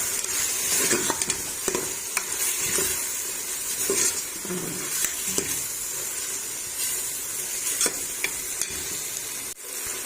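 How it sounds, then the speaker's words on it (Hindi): Constant sizzling of whole white cumin seeds frying in a hot pan, with periodic scraping and stirring clicks over a steady hiss. "अब सफ़ेद जीरा साबुत ऐड कर दिया।"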